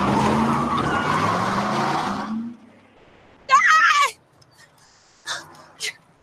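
In a movie scene, a car skids to a stop with a loud, rough rumble lasting about two seconds. A sharp tonal squeal follows, then quieter cries or voice-like bursts.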